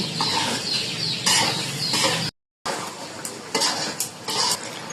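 Spoon scraping and clinking in a cooking pot as fish and potatoes are stirred, close and busy, with chickens clucking around and a brief silent gap midway.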